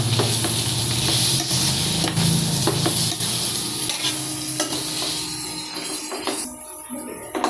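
Half a teaspoon of turmeric is stirred into a sizzling tempering for poha (flattened rice), a steady crackling fry with repeated scraping stirs of the pan, close and fairly loud throughout.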